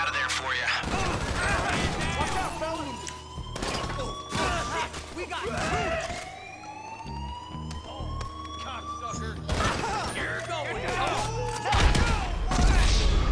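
Gunfire with MP5s and shotguns during a casino heist in the game GTA Online, bursts of shots repeating through the scene over a wailing police siren and other game noise.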